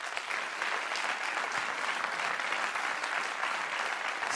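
Sustained applause from a studio audience at a televised celebration of a regional hospital's 125th anniversary in Verviers, a dense, steady wash of clapping held at an even level throughout.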